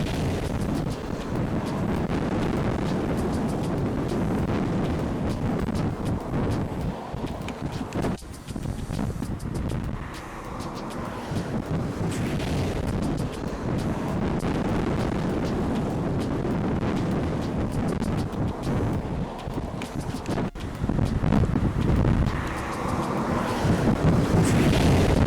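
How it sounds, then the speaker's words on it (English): Breeze and wind buffeting roar steadily across a microphone while driving down Spur Tree Hill in Manchester, Jamaica, a loud continuous rush with gusty swells and a few sharper thumps. "Let us just enjoy as the breeze take me away."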